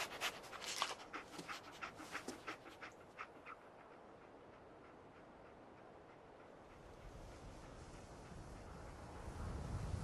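A dog companion in the video game Fallout 4 pants in quick, rhythmic breaths for a few seconds, faint and close, before fading into a low, steady ambient hum.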